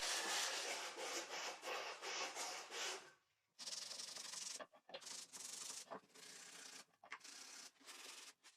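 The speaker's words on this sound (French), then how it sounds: "J'ai créé une planche à poncer pour enlever les marques de la scie à ruban" Rhythmic back-and-forth rasping of a box and lid of salvaged wood being sanded flat by hand with a sanding board, strokes in bursts with a couple of short pauses, close and fairly quiet.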